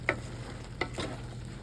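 Spatula stirring stir-fried bok choy with canned sardines in a pan, a few scraping strokes over a low steady sizzle, close by, with no talk.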